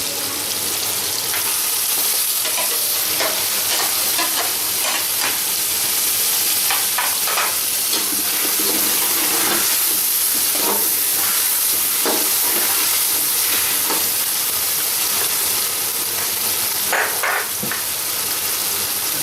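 Beef pieces frying in a spiced masala that has been cooked down until the oil separates, a steady loud sizzle with scattered stirring scrapes and crackles running throughout.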